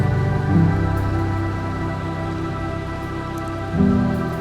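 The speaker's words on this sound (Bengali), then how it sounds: "এরপর একটুখানি ভেজে নেব।" Ground cumin and Kashmiri chili, with turmeric, frying in a pan produce a steady, even sizzle with a low hum beneath it, swelling slightly near the start and end, with no talking.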